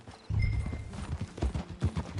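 Horse hooves clip-clopping in the Red Dead Redemption 2 video game, a steady near rhythm of hoofbeats alone with no voices.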